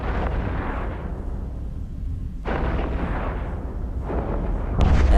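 Ship cannons firing in the space combat game EVE Echoes as a Dominix battleship is destroyed: a continuous dense roar of booming gunfire and explosions, with fresh heavy blasts swelling in at intervals, loud and with no talking.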